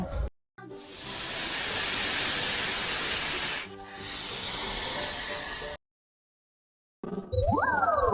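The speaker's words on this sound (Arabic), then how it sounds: "ثعبان." A snake hissing: two long, loud, steady breathy hisses, the first about three seconds and the second about two, separated by a brief dip, followed by silence and then a short unrelated chirpy electronic sound.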